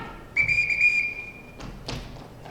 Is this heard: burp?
no